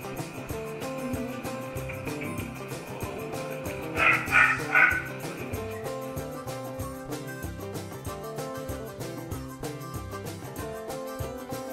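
A couple of quick, high puppy yaps break out midway over steady background music.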